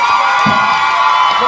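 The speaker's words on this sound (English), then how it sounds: "A round of applause for the standing ovation." Crowd at a Women's Week celebration in Ghana cheering and whooping during a standing ovation, a loud sustained roar with shouts throughout.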